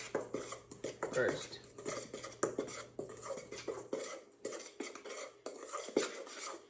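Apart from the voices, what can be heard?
mixing batter in a bowl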